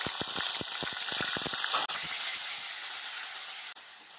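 Ground onion masala hits hot oil in a kadhai, a steady close sizzle and hiss that runs the whole time, with a few soft spoon clinks near the start and no talking.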